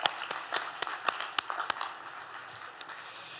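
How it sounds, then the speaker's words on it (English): Audience applause at a university commencement ceremony, scattered sharp claps fading out over a few seconds, moderately distant, with no talking. "a round of applause"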